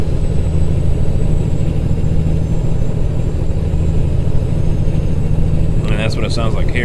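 A Viper2 389 truck engine in American Truck Simulator rumbles at a loud, steady low idle throughout, with a voice briefly audible near the end.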